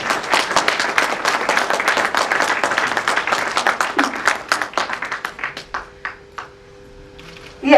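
Audience applause at a book launch ceremony, a dense round of clapping from a crowd that gradually thins into scattered individual claps before dying away.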